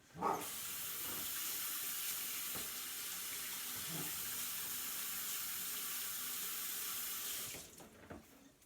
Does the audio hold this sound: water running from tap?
yes